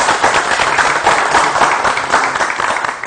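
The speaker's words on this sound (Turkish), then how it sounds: "Alkışların en güzeli." Steady, dense applause from a studio audience at a late-night television broadcast, loud and continuous for the whole stretch with no voices over it.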